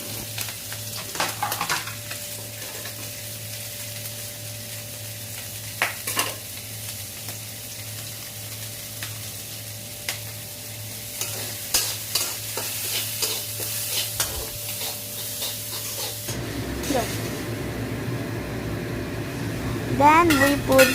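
Onion and masala frying with egg in a pan for late-night noodles, a steady sizzle with scraping stirs throughout, a fan humming underneath and the frying growing louder near the end.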